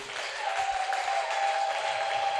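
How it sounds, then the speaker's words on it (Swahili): Church congregation clapping in praise, a dense and steady wash of hands from many people, with a sustained keyboard-like tone held underneath. "Piga Yesu makofi tena."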